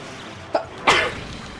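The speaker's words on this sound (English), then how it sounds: "I died as I sneezed" A single sharp sneeze from a person during a Monster Hunter Generations Ultimate gaming session, preceded by a brief inhale burst, close and loud against quiet background.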